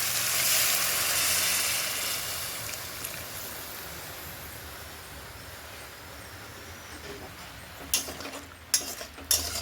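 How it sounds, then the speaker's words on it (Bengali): Masala frying in a pan hisses with a steady broad sizzle that gradually settles, followed near the end by a few sharp clinks and knocks of utensils against the pan. "এবার আমি দিয়ে দেবো একটু কষে জল দিয়ে দেবো।"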